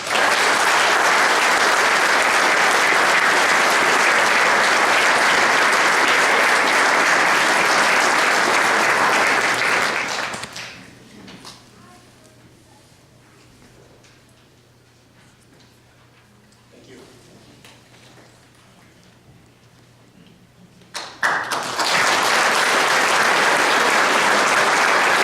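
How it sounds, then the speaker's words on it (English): Loud applause fills a chamber of commerce awards presentation, a dense roar of clapping that drops away to a quiet room for about ten seconds before a second strong burst of clapping erupts and carries to the end. "I would certainly love to give a round of applause to Szukhent Eisenhower"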